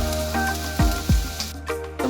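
Garlic sizzles as it is added to hot oil in a pan for a Filipino sautéed bottle gourd dish, with a steady close fry and a couple of soft thumps from stirring.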